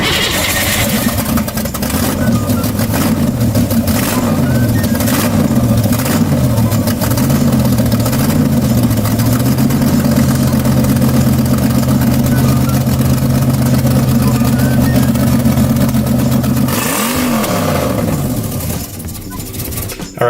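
Mazda Miata engine running loud and close as the car pulls away, revving up and down in waves, then settling into a steady drone before another surge and a drop at the end.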